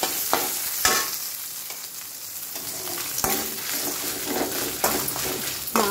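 Spices sizzling and frying in oil in a pan, with a steady crackle broken by several sharp stirring scrapes. Close and fairly loud, and no one speaks.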